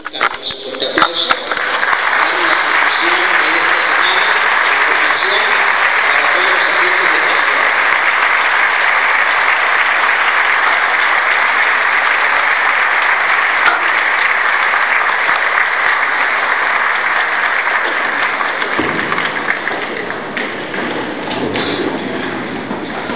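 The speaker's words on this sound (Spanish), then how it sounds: "les pedimos que nos hagamos con un fuerte aplauso" Loud, sustained audience applause for an auxiliary bishop at a Year of Faith conference in Miraflores, dense clapping that continues for over twenty seconds before tapering slightly at the end.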